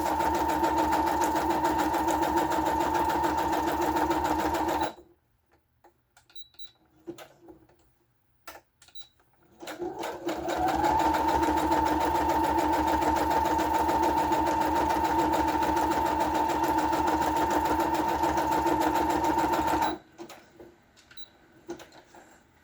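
A sewing machine stitches around paper journal cards in two long, steady bursts with a rapid mechanical hum, separated by a quiet pause with light clicks.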